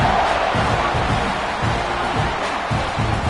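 A stadium crowd at a college football game between Ohio State and Texas A&M roars steadily at kickoff, a dense, continuous wall of cheering voices heard from within the stands.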